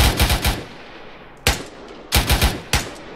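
Bursts of automatic rifle fire in the military shooter Arma 3, on the island of Altis, come in short, loud, sharp volleys of three or four rounds with brief pauses between them.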